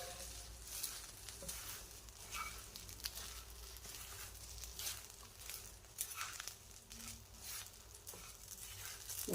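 Masala okra (bhindi) with salt is stirred and mixed in a pan, giving a faint, soft patter and light sizzle with scattered scraping rustles, quiet and close, with no talking.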